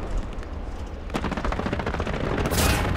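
Gunfire in the Hell Let Loose video game, a sustained rattling burst of shots that grows denser and louder after the first second, close and dominant with no voices.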